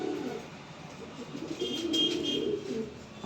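Pigeon cooing softly at close range, low throaty coos rising and falling through a few seconds with faint background hiss and no talking.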